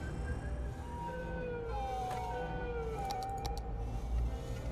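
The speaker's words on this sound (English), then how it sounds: "Turn on your sirens and just move it" An ambulance siren wails in the Cities Skylines city-building game, rising and falling tones over steady traffic rumble, moderately loud, with a few faint clicks and no talking.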